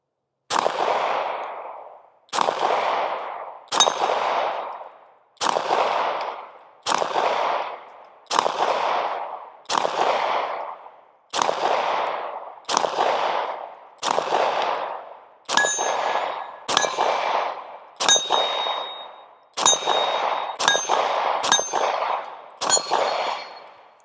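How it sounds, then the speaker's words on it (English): A SAR9 SOCOM compact pistol fires about sixteen shots at steel targets from 10 to 15 yards, the sharp reports coming in a steady rhythm and the later ones joined by ringing metallic clangs of hits on steel. "let's go ahead and start with the compact size first and see if we can hit any steel with it"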